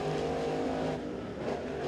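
A Crate Late Model race car on a qualifying lap at Crossville Speedway roars loudly and steadily at high revs, its engine pitch wavering slightly as it runs close by.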